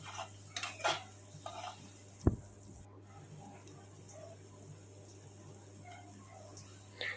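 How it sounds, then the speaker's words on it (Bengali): Spice masala with a pinch of turmeric fries in a pan for a paneer dish, a faint sizzle under scraping stirs and clinks of a metal spoon on cookware, with one sharp knock. "অল্প একটু সামান্য একটু হলুদ গুঁড়ো দিয়ে মশলাটা আমি এবার একটু ভেজে নেবো ভালো করে"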